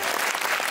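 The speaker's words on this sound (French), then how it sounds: "Et je suis chaud qu'on lui fasse un tonnerre d'applaudissements." Studio audience clapping in a dense, steady burst for an arriving guest at a staged conference, filling the whole moment with no voices on top.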